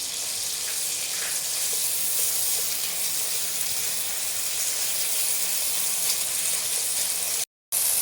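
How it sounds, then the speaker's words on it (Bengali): Tomatoes and ginger-cumin paste stir-fry in a pan in Bengali vegetarian alur dom cooking, giving a steady, loud, hissing sizzle throughout with a brief dropout near the end. "কিছুক্ষণ নেড়ে ছেড়ে আমরা কষে নেব।"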